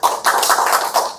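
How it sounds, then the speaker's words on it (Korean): Brief burst of applause from an audience at a workplace electrical-safety lecture, a dense flurry of hand claps lasting about a second, fairly close, with no talking over it. "박수 한번 보내주십시오."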